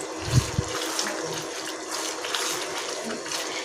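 Tamarind water is poured into a thick anchovy fish curry (thokku) in a home kitchen. A couple of soft knocks open it, then a steady liquid trickle and splash continue alone at moderate volume.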